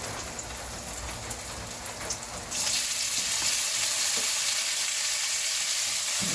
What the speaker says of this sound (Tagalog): At saka igigisa natin ang karne.